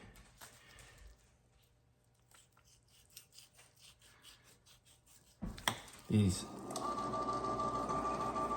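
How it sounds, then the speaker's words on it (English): An ice machine in a kitchen clatters and whirs into action, starting with a few bumps and then settling into a loud, steady mechanical hum with a high whine, following a quieter stretch of faint scraping and shuffling. "Sorry, the ice machine."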